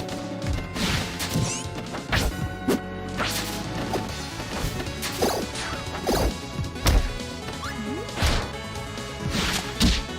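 Kirby's down smash in Super Smash Bros lands as a string of sharp, crashing hits spread over several seconds, separated by busy game sound effects.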